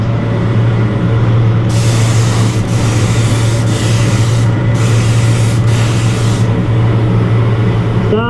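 Black spray paint hisses out in several loud, separate bursts inside a DIY paint booth built from a shed, over the constant low hum of an exhaust fan.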